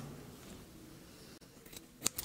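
Scissors cutting fabric and elastic while sewing a carnival waist pouch, a few quiet snips near the end over a faint background hiss.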